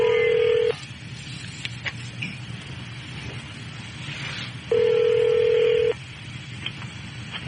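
A telephone rings in a radio studio, two long electronic tones separated by a pause, loud and close over faint background noise.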